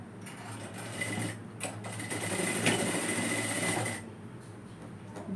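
Domestic sewing machine stitching the sleeve of a kurti peplum top, a steady close whirring run for about four seconds that then stops, with no talking.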